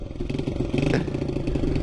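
A smoky two-stroke dirt bike engine idles close by with a fast, rattling, buzzy pulse that stays loud and steady throughout.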